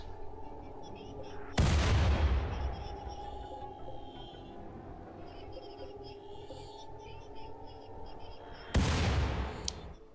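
Artillery in the video game Rimworld fires two heavy booms several seconds apart, each sharp blast fading slowly, over a faint steady game hum with a voice speaking quietly underneath.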